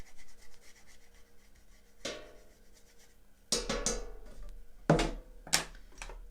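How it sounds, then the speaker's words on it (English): Excess gilding flakes are brushed off a surface in several short, dry rubbing strokes, close and faint, with a few louder scratchy passes toward the end. "Brush off the excess."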